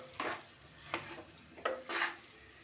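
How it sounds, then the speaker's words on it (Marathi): Carrot halwa stirred in a pan over a low flame, four soft scraping strokes spaced apart against a faint sizzle, fairly quiet. "गॅस बारीक करून असं हलवत राहायचं सतत"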